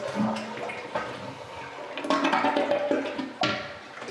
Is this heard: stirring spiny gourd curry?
no